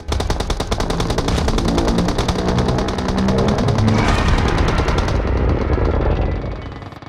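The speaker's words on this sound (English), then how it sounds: "So we have here about 7 players continuously shooting at Godzilla" Sustained automatic gunfire from several players shooting at Godzilla in PUBG Mobile, a dense, loud, continuous rattle of overlapping shots lasting about six seconds before cutting off abruptly.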